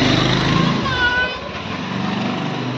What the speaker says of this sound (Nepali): बाइक आउँछ है गाडी।